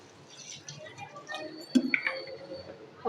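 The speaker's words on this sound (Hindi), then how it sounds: "साथ ही साथ मैं इसमें शामिल करूँगी जी ठंडा पानी" Cold water is poured into a raw mango (keri) sharbat summer drink before blending, giving a short splashy pour with small clinks amid steady kitchen background noise.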